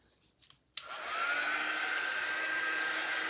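Hair dryer switching on with a sharp click and then blowing steadily, drying chalk suede paint on a surface. The airflow holds a constant, fairly loud whirring hiss with no talking.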